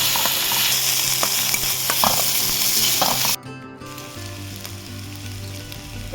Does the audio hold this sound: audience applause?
no